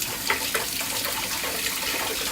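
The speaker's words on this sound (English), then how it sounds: "I'm gonna wash my hands real quick." Hands washed under a running kitchen sink tap, a steady close rush of water with small splashing changes as the hands move through the stream.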